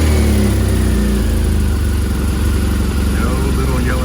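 A 2015 BMW R1200GS motorcycle engine, just fitted with a new camshaft position sensor, runs steadily at a close, loud idle with a dense low throb throughout, while a voice talks over it.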